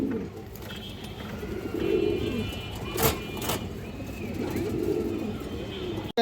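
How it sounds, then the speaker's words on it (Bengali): An old-breed male pigeon coos nearby in soft, low repeated throaty phrases, with a brief sharp noise partway through. "এই দেখেন দর্শক অনেক সুন্দর একটা কবুতর।"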